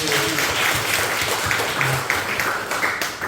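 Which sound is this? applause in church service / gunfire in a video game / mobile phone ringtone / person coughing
applause in church service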